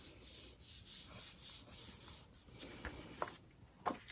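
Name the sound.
pressing down patterned paper onto card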